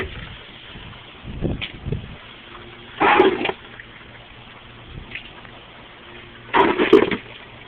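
Floodwater pooled on a back porch during heavy rain, heard as two loud bursts of splashing and gushing as the water is thrown about, with quieter sloshing and trickling between them.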